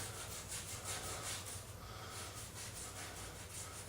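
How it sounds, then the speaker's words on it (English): Wet scrubbing of old finish off a wooden 1939 RCA K80 radio cabinet, a steady close rubbing with repeated back-and-forth strokes, faint and continuous. "start scrubbing in the corners and stuff"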